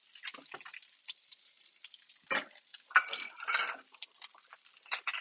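Excess cooking oil drained from a hot pan while a meal-kit dish is seared over low heat, heard as soft dripping, trickling and sizzling bursts that come and go irregularly, close and fairly quiet with no talking.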